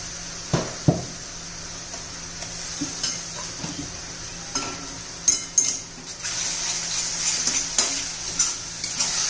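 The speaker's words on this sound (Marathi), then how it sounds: "चांगलं परतून घ्यायचंय. टोमॅटोचा कच्चेपणा जाईपर्यंत आपण शिजवून घेणार आहोत." Salted tomatoes sauté in a pan with a steady, close sizzle, broken by repeated scraping and knocking strokes of a spoon stirring.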